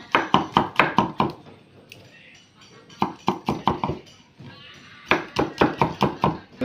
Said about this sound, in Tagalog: hiwa tayo ng garlic